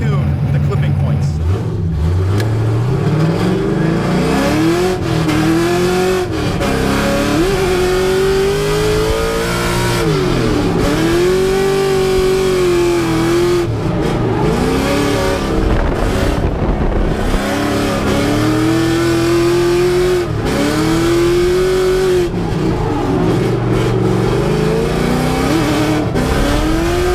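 A drift car at a drift competition races around the track with a loud, continuous engine note that repeatedly climbs and drops as the throttle is held on, and a voice talks at times over the roar.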